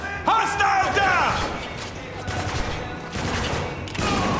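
Bursts of gunfire from the video game Spec Ops: The Line, including LMG and shotgun fire, come in loud rapid volleys and thumps mixed with shouted voices and game sounds.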